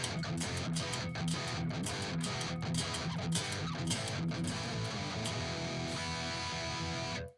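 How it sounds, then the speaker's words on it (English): A crunchy electric guitar distorted through an amp simulator plays rhythmic chugging chords, loud and continuous, then cuts off abruptly at the end. "It is adding what's called distortion, which is that crunchy sound you're hearing."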